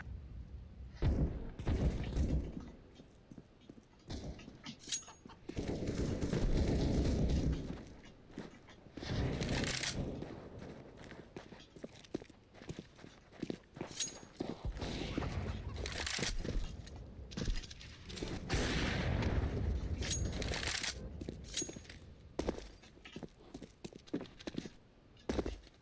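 Video game gunshots sound as repeated sharp thuds and clattering bursts, close and irregular, scattered across a long stretch of busy game noise with some talk.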